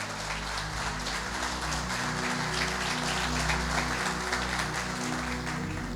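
A church congregation applauds loudly for the Lord during an evening service, a steady dense wash of clapping over a sustained low musical drone and hum, continuous throughout at close range.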